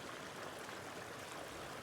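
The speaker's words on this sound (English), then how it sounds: "so here is a river crossing." A mountain stream runs past a hiking trail river crossing near Strawberry Lake, Colorado, giving a steady, even rush of flowing water with no voices.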